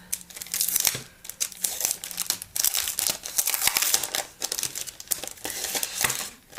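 Plastic sticker packaging crinkles and crackles in bursts of close, busy rustling, with short pauses between handling movements, from gift stickers being unwrapped.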